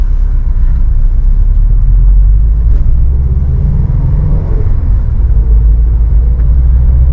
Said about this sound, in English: So we'll just drive around the neighborhood here.